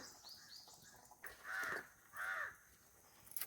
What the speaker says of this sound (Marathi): कावळा आराडता